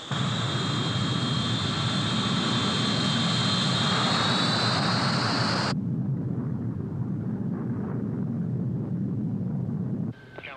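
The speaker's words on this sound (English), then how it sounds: "Trans-Allied 136, you're cleared for takeoff." Jet airliner roaring on its takeoff run as a film sound effect, a loud sustained engine rumble with a high whine that cuts off abruptly partway through, leaving a lower steady rumble.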